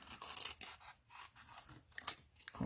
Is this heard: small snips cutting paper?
yes